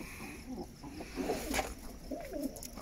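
Pigeons coo at night in a loft where the hens have laid eggs, giving soft, throaty, repeated calls close by in a quiet room.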